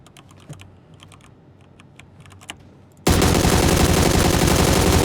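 Sustained automatic gunfire from an AUG rifle and M24 shots in the battle royale game PUBG, bursting in loudly and continuously after a few seconds of quiet clicking.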